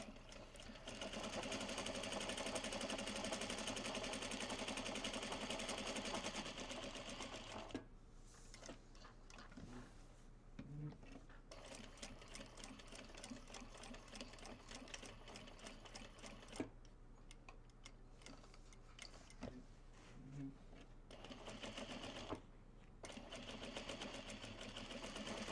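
A sewing machine stitches welt pockets on a traveler sling of Japanese fabric: long runs of rapid, even needle rattle, close and loud, broken by short pauses with soft handling clicks before stitching resumes.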